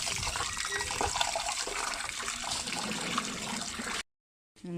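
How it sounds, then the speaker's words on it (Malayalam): Steady splashing and swishing of water for several seconds as rice is rinsed by hand, then a brief silence and more sloshing. "നമുക്ക് അരി കഴുകാം"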